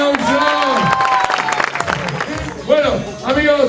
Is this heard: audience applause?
yes